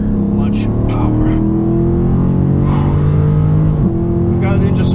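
A 2017 Dodge Charger 392 Daytona with a 6.4L V8 accelerates in sport mode, its loud, steady engine drone climbing and shifting pitch, with a brief drop near the end, while a voice talks over it.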